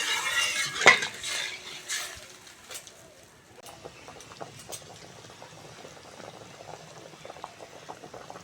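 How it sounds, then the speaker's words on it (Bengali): Mustard-paste spice broth for a fish curry bubbling at a boil, with a few spoon clinks and stirs at first, then a quiet, continuous patter of popping bubbles close by. "ঝাল ফুটে গেছে"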